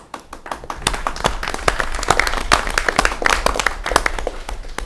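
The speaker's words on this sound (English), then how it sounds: "She deserves the applause for making that happen" Meeting audience at a school committee session clapping for a department head, a dense run of sharp overlapping claps sustained at steady volume throughout, with no talk over it.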